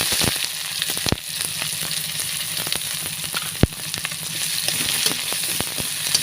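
Chopped onion sizzles in hot oil with cardamom, cloves, cinnamon, cumin, black pepper and a bay leaf, a steady close frying hiss broken by a few sharp crackles and pops, with no voices.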